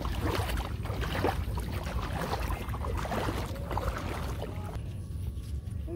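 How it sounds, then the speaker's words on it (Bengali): A village boat, earlier taken out to cut water hyacinth, is turned around on the water, with a low churning wash and wind-buffeted rumble. The sound is fairly faint and continuous, with no talking. "নৌকা হচ্ছে যে পাশে বর্দা পানা কাটার জন্য নিছিল, তো ঘুরিয়ে আনতেছে"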